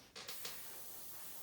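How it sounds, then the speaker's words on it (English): Spray paint is applied in light coats to the ends of scale model aircraft bombs: two or three quick, close hissing puffs followed by a faint steady hiss. "I just spray the ends, just light coats."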